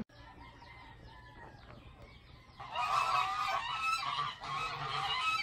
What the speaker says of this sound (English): is that ducks that I hear in the background there, geese, Mimi?